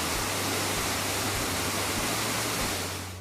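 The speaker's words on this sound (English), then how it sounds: "The Eternal Flame Falls Valley is an iconic and unusual waterfall" Eternal Flame Falls, a waterfall with natural gas seeping below it, gives a loud, steady rushing roar of falling water that fills the whole stretch and eases slightly at the end.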